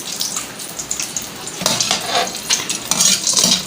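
Gond, an edible gum, frying in desi ghee: a close, lively sizzle broken by a few scraping stirs that grow louder toward the end, with no speech.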